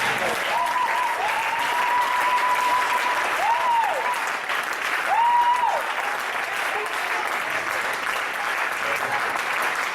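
Church congregation breaks into steady applause that carries on for the full stretch, with faint cheers or whistles rising briefly above the clapping.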